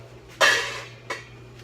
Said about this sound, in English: We lift the lid, we put it on high